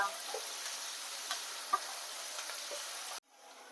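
Onions for chicken chorchori fry in a pan with a steady, close sizzling hiss and a few faint clicks of stirring, ending abruptly as the sound cuts to near silence.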